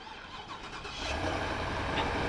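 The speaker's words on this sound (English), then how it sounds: "Now this also has remote start, so if we lock it and then double tap this button" A 2023 Ford F250 Crew Cab XLT Tremor fires up by remote start, a brief crank catching into a steady, fairly loud idle heard up close with no talking.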